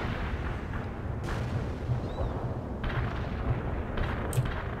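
Artillery strikes pound a battlefield in the strategy game World in Conflict, a dense, rumbling barrage of distant booms with scattered sharper blasts, steady throughout and without voices.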